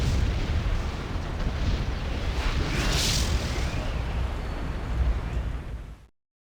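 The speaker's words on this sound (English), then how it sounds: "New York gets nuked." Nuclear blast in a Die Hard video game as New York is destroyed: a sustained roaring, rumbling explosion lasting several seconds, loud and dense, cutting off abruptly at the end.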